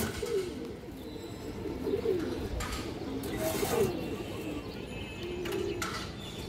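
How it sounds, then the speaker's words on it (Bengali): A male Bezi pigeon coos in a home loft, low rolling coos repeating at intervals, close but fairly soft over light background noise. "একটা বেজি নর কবুতর"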